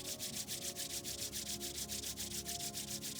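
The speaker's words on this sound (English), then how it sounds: "magnetize your hands to be an instrument through which healing energy flows by rubbing the palms together" Palms of the hands rub briskly together, a rapid run of about fifteen even, swishing strokes heard close and fairly soft, with no other sound over them.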